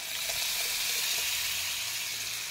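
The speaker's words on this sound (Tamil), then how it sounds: "இந்த குழம்பு கூட்டி வச்சுருக்கோம் இல்லைங்களா, அதை எடுத்து இதில் ஊற்றிடுங்க" Tamarind kuzhambu poured into a pan of frying tomatoes sizzles loudly and steadily, a dense continuous hiss close by with no talking.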